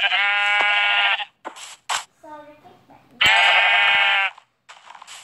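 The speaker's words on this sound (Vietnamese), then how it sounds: "Một con cừu nữa kìa, tôi đâu thấy ba con cừu" Sheep in a video game give two long, loud, close bleats separated by a short gap. Brief clicks and softer game sounds fall between them.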